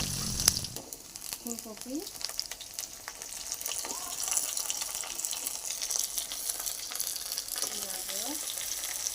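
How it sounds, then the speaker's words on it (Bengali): Potato, cauliflower, carrot, brinjal and tomato fry with salt, ginger paste, green chilli and panch phoron in a pan, giving a faint, continuous sizzle with light stirring scrapes under a brief spoken word. "সামান্য একটু নুন দিয়ে সব কিছু ভেজে নেব।"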